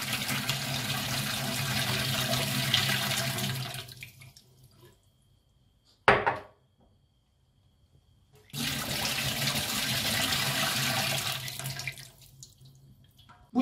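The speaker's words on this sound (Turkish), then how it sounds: "Şimdi diğer kavanozlarımızı da aynı şekilde süzüyoruz." Bitter brine is poured off from jars of green olives in two loud, steady splashing streams of a few seconds each, separated by near silence and a brief clunk of the jar.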